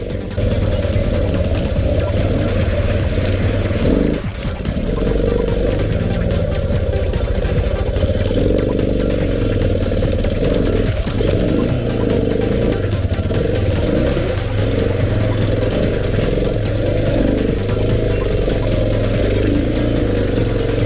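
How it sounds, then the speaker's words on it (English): A Suzuki DR650 single-cylinder thumper engine labours loudly and continuously as the bike climbs a steep, slippery clay enduro hill, its deep pulsing note rising and falling with throttle over the full length, with no talk. "grunty thumper with a massive flywheel that makes for great traction, and I simply didn't expect the DR to get up that hill"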